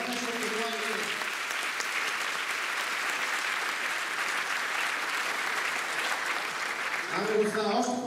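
Audience applause at a Christmas show, a steady, full wash of many hands clapping for several seconds, with a voice briefly talking at the start and again near the end.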